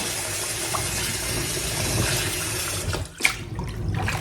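Water pours steadily from a tap over cut pieces of fufu ingredients being rinsed, a loud continuous close gush that briefly drops and then splashes back near the end.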